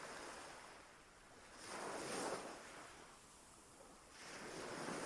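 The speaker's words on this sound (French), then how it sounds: "Vous mettez des images sur ces différents sons, sur le son de l'eau." Ocean waves wash onto a beach in slow swells, a broad hiss rising and falling roughly every couple of seconds, steady and moderately distant with no voices.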